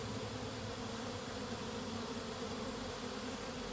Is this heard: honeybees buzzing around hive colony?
yes